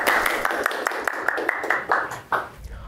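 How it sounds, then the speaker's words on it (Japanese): A small group applauds a job candidate on a Japanese recruiting show, with quick, steady claps close by for a few seconds before they fade. "では拍手の方。"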